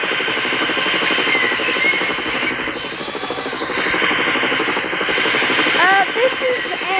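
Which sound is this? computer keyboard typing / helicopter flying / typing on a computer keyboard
helicopter flying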